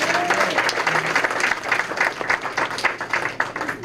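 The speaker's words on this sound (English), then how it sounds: "Give him a big round of applause." Audience applause at a volunteer appreciation evening, sustained dense clapping from a crowd indoors, close and lively, with faint voices mixed in beneath it.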